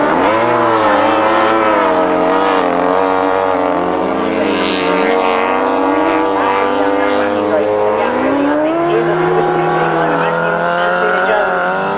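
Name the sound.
grasstrack racing motorcycles on the last lap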